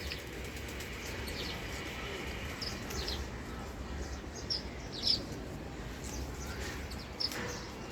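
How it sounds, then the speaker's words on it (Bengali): Birds around a rooftop garden, faint scattered chirps and calls with a few brief flutters over steady background noise, no voices present. "প্রচুর পাখির ডাক শোনা যায় কিন্তু"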